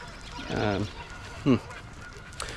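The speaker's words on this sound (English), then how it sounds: "Man, these geese, though, they wake you up early." Two loud goose honks nearby, a drawn-out call followed by a shorter one, with quiet outdoor ambience between.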